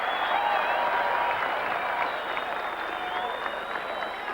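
Stadium crowd applauding steadily at a 1989 Bledisloe Cup rugby match between New Zealand and Australia, a dense continuous wash of clapping with faint whistles and shouts, loud and sustained throughout.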